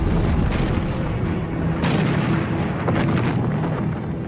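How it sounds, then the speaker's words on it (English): German artillery bombardment at Verdun in 1916, heard as a continuous dense roar of loud shelling with heavier booms landing near 1.8 and 3 seconds, and no voices. "On the 21st of February 1916, the German bombardment began."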